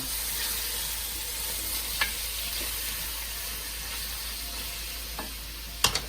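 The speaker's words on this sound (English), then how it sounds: "I love that sizzle." Steady, dense sizzling of chicken frying in olive oil, broadband crackle throughout with a few sharper pops and clicks near the end; no talking.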